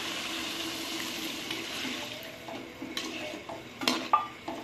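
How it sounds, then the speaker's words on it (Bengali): A spoon stirs mango pieces in a cooking pot for a Bengali curry with potatoes, scraping and swishing close-up in steady strokes, with wet clinks growing louder near the end. "এবার আমি নাড়াচাড়া করে একদম জল দিয়ে ঢেকে দেবো।"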